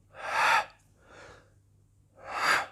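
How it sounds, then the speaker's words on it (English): Three audible breaths during an Aikido wrist-strengthening exercise in a living room: two strong, airy inhalations bracketing a softer one between them, close and clear, with a faint low hum underneath and no talking. "Breathe in."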